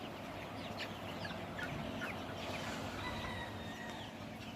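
Chickens cluck and chatter at a poultry farm holding around 3000 birds. The dense, constant flock noise comes from all around, with scattered louder calls rising above it.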